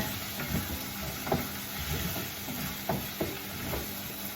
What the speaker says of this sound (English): Just give a good stir.